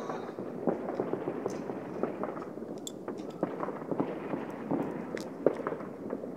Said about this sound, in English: It's a long fireworks.